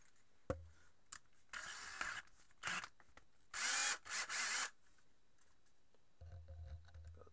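A power drill bores a hole into a metal webcam base in short, separate bursts of whining, with a brief clack at the start and quiet pauses between runs.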